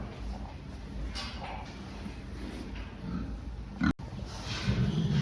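A pig being weighed on a farm scale grunts and snorts in a steady, close stream amid barn noise and shuffling, with a sharp knock near the end.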